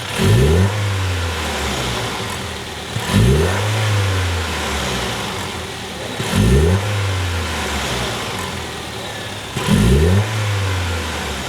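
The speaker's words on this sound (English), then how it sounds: "So now that you've heard both these cars and how the intake system sounds" A Toyota LC250 with an upgraded intake system revs repeatedly, four sharp throttle blips rising and falling at regular intervals over a steady idle, close and loud with no talking.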